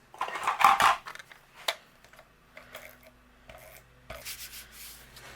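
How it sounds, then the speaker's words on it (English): A tape runner rolls adhesive onto a paper card panel, producing short, close scratchy rubbing strokes in several bursts separated by brief quiet gaps, with no talking. "just using my tape runner."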